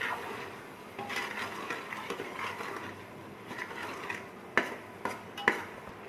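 Spices stirred together in a bowl with a spoon, soft scraping and mixing under light clinks, with a few sharp taps of utensil against the bowl near the end.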